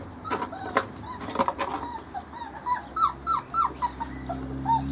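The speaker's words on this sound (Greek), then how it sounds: "Να, το σκυλάκι" A Cretan puppy yelps and whimpers in short, repeated high cries, with bursts of barking, close by and fairly loud over a low steady hum.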